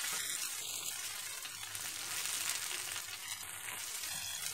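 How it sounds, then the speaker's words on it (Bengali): A paste of ground onion, garlic, ginger and cashew sizzles steadily in a pan while being stirred, a soft continuous fry with light scraping and a few faint high beeps over it. "মশলাটা একটু ভাজা ভাজা হবে, ততক্ষণ এটা নেড়ে যেতে হবে।"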